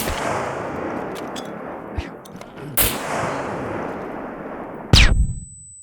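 An NPC firing a gun in the survival video game Scum, several sharp cracking shots with one loud final report that rings out and decays, under a rumbling background.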